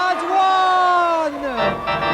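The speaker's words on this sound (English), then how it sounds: "And the crowd are counting him out." Video game boxing crowd counting out a downed fighter, a loud sustained wash of chanting voices with a rising and falling tone, then a brief dip and renewed noise.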